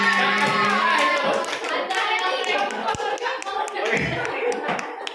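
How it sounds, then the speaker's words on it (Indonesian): A small group gives a brisk round of hand clapping at an indoor training session, several people clapping together near and loud, with a few voices mixed in and the clapping thinning out toward the end. "Oke, boleh tepuk tangan untuk Bulan ini, silakan kembali Bulan."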